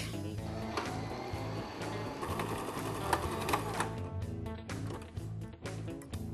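A sewing machine stitching through denim jeans, a steady fast mechanical whirring rattle running throughout, close up, with the rhythm slowing and stuttering toward the end.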